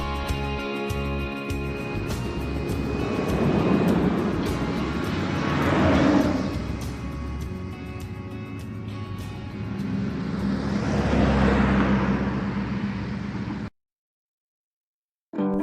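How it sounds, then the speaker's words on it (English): Cars on a highway outside a diner at night sweep past one after another in two long rising-and-fading whooshes over a low traffic rumble, ending in abrupt silence. "Outside the diner, the cars pass by on the highway."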